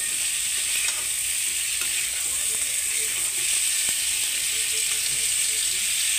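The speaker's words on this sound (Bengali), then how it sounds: "মশলাটা ভালোই 5 মিনিটের মতন আমি ভেজে নেবো আর কি, সুন্দর করে।" Spice paste with salt frying in a pan for a rohu fish curry with kohlrabi and potato, a continuous bright sizzle with occasional faint clinks of a spatula, close and steady throughout.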